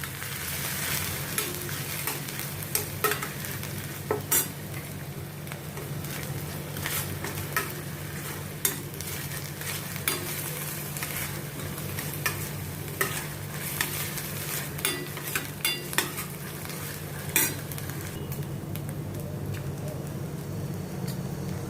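Samosa filling paste sautéing in oil over a medium gas flame, a soft, constant sizzle broken by frequent scraping and clinking strokes of a spatula against the pan.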